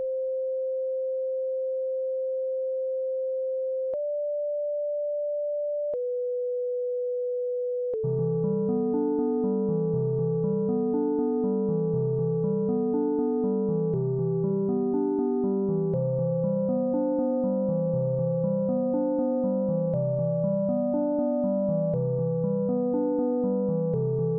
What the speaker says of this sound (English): now we're going to play through the melody here and see how this sounds.